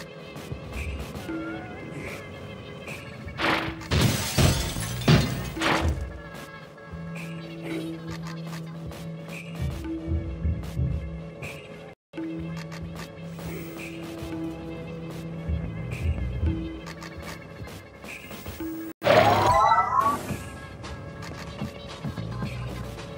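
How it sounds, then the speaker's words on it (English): The awkward noise generator from the puzzle game Quantum Conundrum plays a messy stream of odd tones and hums, broken by a couple of loud crashing bursts near the start and again toward the end, with no talk. "That is a botched experiment of mine called the awkward noise generator."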